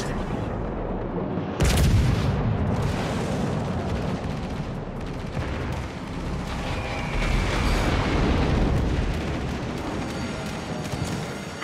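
Naval guns and explosions from World of Warships: Legends rumble continuously through a dense battle bed, with a heavy boom near the start and repeated blasts rolling over a sustained low roar, loud and close throughout.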